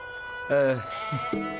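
A sheep bleats once loudly in a wavering, harmonic cry, followed by a shorter second bleat, close by at a place of offering, with faint background murmur.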